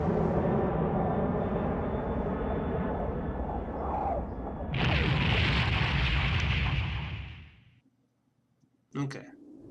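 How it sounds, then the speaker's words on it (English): In the video game Remember11, a plane goes down with a sustained roaring rumble that swells into a heavy, noisy blast, then cuts to near silence before a short sharp crackle. "And the plane goes down."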